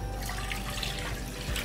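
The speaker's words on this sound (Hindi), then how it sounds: "इसमें सबसे पहले पानी डालूँगी।" Water poured into a cooking pan in a home kitchen, a close, continuous splashing flow heard on its own.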